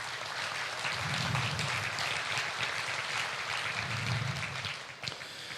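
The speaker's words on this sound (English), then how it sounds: "give yourselves a round of applause for being here" An audience at a Wisconsin state fair livestock auction applauds, a broad continuous patter of many hands at moderate distance, steady for about five seconds before trailing off.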